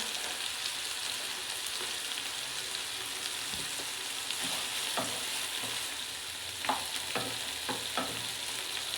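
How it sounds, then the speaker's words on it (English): Onion sizzles and fries steadily in a pot with browned meat, a continuous close hiss broken by a few light stirring knocks toward the end, with no voices. "I can add my onion and let that just get translucent."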